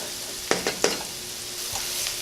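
Button mushrooms and vegetables sautéing in a pan, a steady close sizzle broken by a few sharp clacks of stirring near the start.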